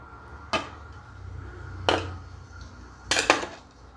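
A metal plate is set onto a stand inside a kadhai of hot water for steaming rava idli, giving three sharp, close metallic clanks spaced about a second apart over a quiet background.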